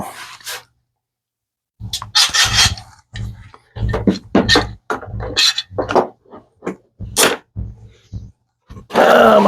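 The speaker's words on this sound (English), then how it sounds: "And I'm going to put plenty of clamps on this." Clamps are set and adjusted on a wooden charcuterie board, giving a string of close, sharp scraping, rubbing and knocking sounds between brief silences.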